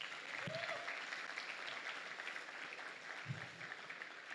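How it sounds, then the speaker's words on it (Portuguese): Congregation applauding at a church conference: steady, dense clapping from a large crowd fills the whole stretch, with a faint voice or tone briefly audible near the start. "Vamos aplaudir Jesus mais uma vez."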